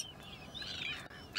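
A common tern at its nesting colony gives a few faint, high chirping calls over a quiet outdoor background, with no talking.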